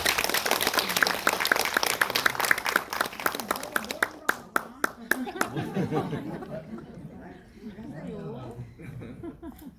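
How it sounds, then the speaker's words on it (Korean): An audience at a community film screening claps in a burst of brisk applause that thins out after a few seconds, while people talk and chuckle underneath. "박수로 맞아주시면 감사합니다"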